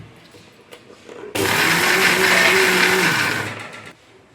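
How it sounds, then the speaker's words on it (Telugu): Electric mixer grinder whirring loudly as it grinds fried roselle flowers for a pickle, a steady burst of about two and a half seconds that starts abruptly, then fades and stops, with quiet kitchen sounds around it. "ఇది కొంచెం మంచిగా ఫ్రై ఫ్రై అయినాక మిక్సీ పట్టుకొచ్చుకుందాం"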